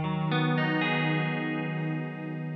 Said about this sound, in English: Beautiful chorus.